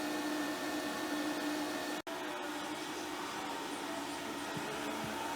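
A 24 volt DC welder runs steadily while charging a car battery, giving a constant electrical hum and whine with one brief dropout partway through, no talk.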